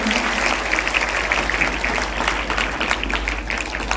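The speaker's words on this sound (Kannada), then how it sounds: "ಕಾರ್ಯಕ್ರಮಕ್ಕೆ ನಾವೆಲ್ಲರೂ ಚಪ್ಪಾಳೆ ಮುಖಾಂತರ ಸ್ವಾಗತಿಸುತ್ತೇವೆ" Applause welcomes guests at a school cultural and talent festival, with a large crowd clapping in a dense, steady roar that holds evenly for several seconds.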